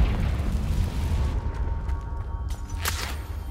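A Confringo spell explodes in Hogwarts Legacy: a deep rumbling boom fills the start, then it fades and a sharper burst pops near the end.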